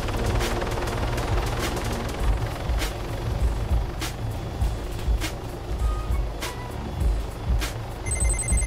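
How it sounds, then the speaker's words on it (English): Gunfire and electronic beeping in the military video game Arma 3 while a helicopter approaches an enemy base, with sharp regularly spaced shots over a constant engine drone and high beeps near the end. "I heard little shooting sounds and little beeping sounds all of a sudden"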